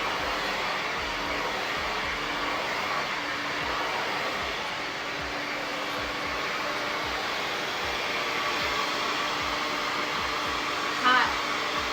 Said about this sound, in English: putting heat protectant on my hair and a silk serum just to blow dry my hair